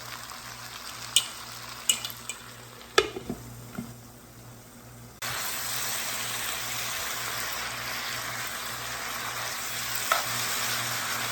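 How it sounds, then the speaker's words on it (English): Cabbage cooks down in a covered skillet for Southern fried cabbage, a few sharp clanks and knocks first, then a steady loud sizzle that fills the rest. "I'm going to cover my skillet so that the cabbage can cook down"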